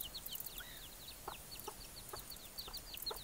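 Mother hen clucking softly among her three chicks, two black and one white, with high thin peeping from the chicks; faint and distant outdoors under steady background noise.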